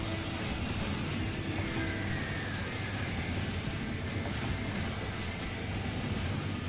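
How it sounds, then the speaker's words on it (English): Steady train rumble with a faint hiss of steam runs throughout in the Final Fantasy XIV Rival Wings game, a continuous mechanical drone with no clear breaks. "If you get on the train a little too early, the steam will knock you off."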